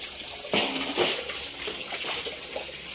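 Water splashing and running nearby while cleaning on a pig farm, with a couple of sharper splashes early on over a steady wash of flowing water.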